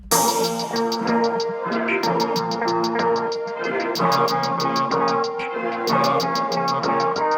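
A second doubled hi-hat shaped with ShaperBox and a 2-bar fill adds bright, sparkling ticks in bursts and rolls over sustained synth chords in a trap-style beat, with no voices.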